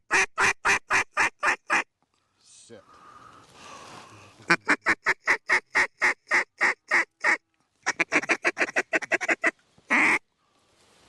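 A loud, close series of rapid quacking calls from ducks in a flock arriving over a hunting hide, fired in quick rhythmic bursts with short pauses between, alongside a softer murmur of quieter sound in one gap.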